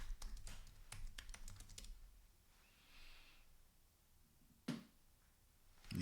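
Keys on a Mac computer keyboard are tapped in a quick, uneven burst as a password is entered. The close clicks are followed by quiet and a couple of soft thumps.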